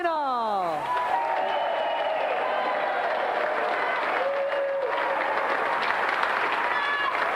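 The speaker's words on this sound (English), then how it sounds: "let's have another round of applause for our two brilliant competitors, Mavis and Matthew John Minor." A game show studio audience claps in a dense, sustained round of applause that carries on steadily throughout, while sliding musical tones and a voice sound over it.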